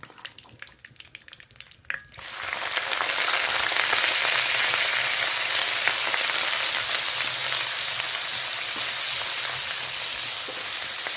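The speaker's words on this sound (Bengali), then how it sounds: "তেলটা গরম হয়ে গেছে। তো এর মধ্যে আমি কুচি কুচি করে কেটে নেওয়া পেঁয়াজগুলো" Finely chopped onions hit hot oil in a pan while making egg pasta. After a short, quiet lead-in, a sudden loud, crackling sizzle bursts out and stays dense and steady to the end.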